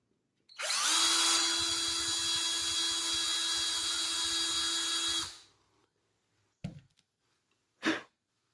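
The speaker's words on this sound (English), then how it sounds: "Be sure and measure your drill bit so you don't drill through the front of the headstock." A power drill bores a screw hole into a guitar headstock during a partscaster build: one loud, steady whine lasting about four and a half seconds, followed by two short separate bursts.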